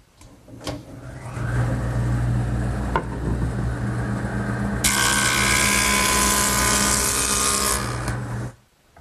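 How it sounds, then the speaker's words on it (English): A jointer smooths the freshly ripped edge of a wooden board with a loud mechanical whir and rumble. A brighter, harsher cutting roar sets in midway and then stops abruptly. No one speaks. "the joiner will make it perfect"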